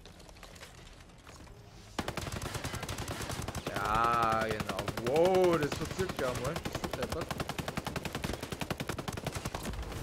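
An LMG machine gun in the video game Ghost Recon Breakpoint fires a long, rapid, evenly paced stream of shots that runs without a break, while players talk over it.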